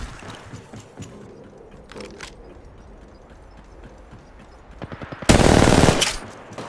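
Gunfire erupts in Apex Legends Mobile, a loud dense burst of rapid shots near the end after scattered quieter game clatter and thumps, with no voices.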